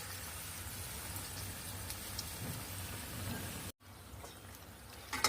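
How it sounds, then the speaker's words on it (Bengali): Bora pitha fry in hot oil on low heat, giving a steady, soft sizzle and crackle throughout, faint and close, with a brief drop partway through. "এই যে বড়া পিঠাগুলোকে আমি ভেজে নিচ্ছি"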